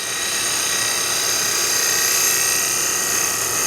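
A turning tool shear scraping a wooden box on a lathe, a continuous bright, hissing scrape over the lathe's steady hum, loud and close with no pauses.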